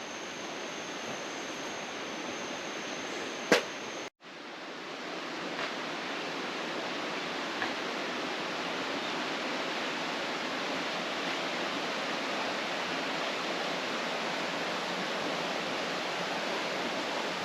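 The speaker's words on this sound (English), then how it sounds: "You can hear the water down below." Steady broadband rush of water flowing below the Pīpīwai Trail on Maui near Waimoku Falls, a constant distant roar with a brief knock near the start and no talking.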